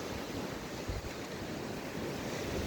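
Sea surf washes onto a beach at Prymorsk in Ukraine's Odesa region on a cold, overcast day, a steady broadband rush mixed with wind buffeting the microphone.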